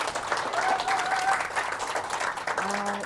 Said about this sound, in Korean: 이렇게 뜨거운 박수로 환영해 주셔서 정말 감사합니다